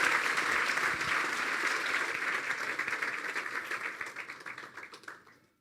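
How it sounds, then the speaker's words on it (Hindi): A church congregation claps loudly and continuously in a dense, even burst of applause that slowly thins out and fades near the end, with no talking over it. "यस्सु के जलाल के लिए हम जोरदार तालियां मारेंगे।"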